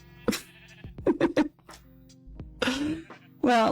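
Sheep on a farm bleat loudly and close by in several wavering calls, interleaved with a person's gasps and short vocal sounds.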